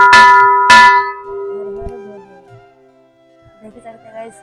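A temple bell at Shiv Shakti Dham in Durgapur is struck twice in quick succession, loud and close, its ringing tone fading slowly, with faint voices and movement near the end.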